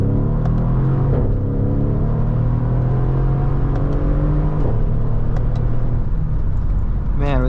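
A 2015 Mercedes ML63 AMG W166 with a twin-turbo engine and stock exhaust accelerates, a deep steady rumble heard from inside the cabin with a few faint clicks, loud and continuous.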